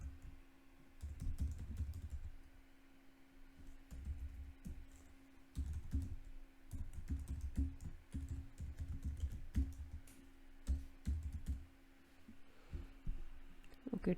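Fingers typing a file name on a computer keyboard, a quiet run of uneven key clicks in short bursts over a low steady hum, with no talking.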